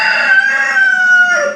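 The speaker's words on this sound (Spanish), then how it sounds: "El que nos despierta en el campo. El gallo" A rooster crows once, a single loud, drawn-out cock-a-doodle-doo lasting under two seconds, close by with nothing else audible.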